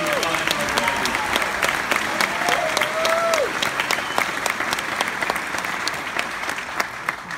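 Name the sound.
applause for college graduates at commencement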